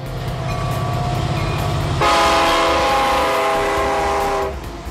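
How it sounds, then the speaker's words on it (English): A train on Cajon Pass rumbles steadily up close, then a loud, sustained horn blast sounds for a couple of seconds before fading back into the engine's drone. "Cajon Pass offers scenic beauty to showcase the numerous trains that journey up and down the mountain"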